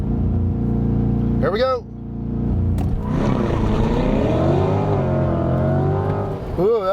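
A 2020 Chevrolet Corvette C8 with passive springs launches from the brake at full throttle: its engine roars up through rising revs after a brief lull, loud and close, with people talking over it.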